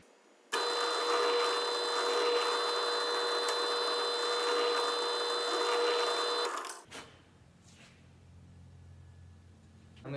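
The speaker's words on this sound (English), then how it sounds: "I'm gonna drill right where that cross is" Power drill boring a hole into a piece of wood, a loud continuous high whine lasting about six seconds close up, then stopping abruptly, followed by quieter handling noise.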